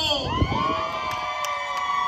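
Crowd at a Latin festival in an old town square, cheering and whooping loudly over sustained tonal sounds like horns or sirens, a continuous wash of voices with no distinct claps standing out.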